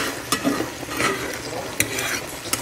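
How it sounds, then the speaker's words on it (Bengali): Food frying in a pan, a close steady sizzle with sharp scraping clicks as it is stirred and turned. "ভাজা করে নেব।"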